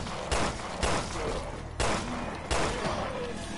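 Gunfire in the survival horror game Resident Evil Revelations 2, four or five heavy blasts spaced roughly half a second to a second apart over a dense, noisy background, no clear voices.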